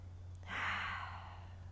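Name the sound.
slow deep breathing during a low back stretch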